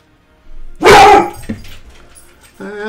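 A dog gives a single loud, close bark, followed by fainter softer sounds, and a brief vocal sound comes in at the end.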